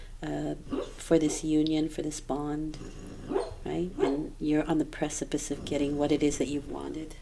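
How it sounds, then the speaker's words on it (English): A dog barks in the background in scattered short bursts, partly masked by a person talking steadily in the foreground. "You can probably hear the dog in the background."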